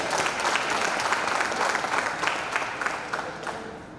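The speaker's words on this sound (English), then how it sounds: "Give them a round of applause." A lecture hall audience applauds the panel at a mayoral customer service event, a steady wash of many hands clapping that slowly fades, with no voices over it.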